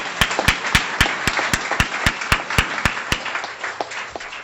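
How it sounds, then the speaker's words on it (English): Sparse, distinct hand claps from a small audience at a guide dog puppy class graduation, where the puppies are heading off to their raisers, sounding as a short burst that thins out over a few seconds. "let's give them a big round of applause"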